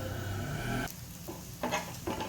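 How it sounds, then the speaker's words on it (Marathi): Dry coconut roasting in a little oil in a pan, stirred continuously while cooking chicken masala: a steady close sizzle that drops off partway, then returns in short bursts as the pieces are moved. "खोबरं देखील आपल्याला व्यवस्थित भाजून घ्यायचं आहे थोडंसं तेल आपण यामध्ये घालून घेऊयात"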